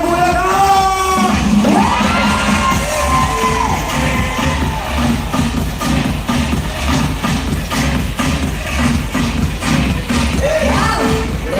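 A big rally crowd in Malolos, Bulacan, shouts and cheers continuously, with whoops and yells rising over a dense roar, and an amplified voice calls out over the noise.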